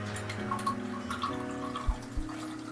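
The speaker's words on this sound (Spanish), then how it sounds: "Entonces vaciamos en este vaso" Water poured into a drinking glass gives a faint, close trickle with a few small splashes over a steady low tonal background hum.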